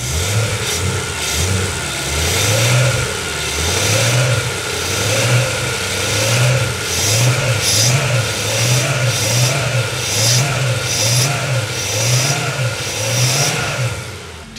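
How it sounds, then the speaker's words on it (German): A BMW E92 M3 V8 with 140,000 km and no service history revs repeatedly in a workshop, the throttle blipped in a steady rising-and-falling rhythm that stays loud and close throughout, with no talking. "ich gebe mal jetzt Gas, du schaust oben rein und siehst, dass der Motor hochdreht"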